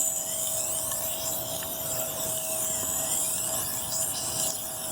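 Knife blade drawn by hand across a Tormek T2 sharpener, a steady close grinding rasp with a faint high whine, continuous and even across the passes with no talking.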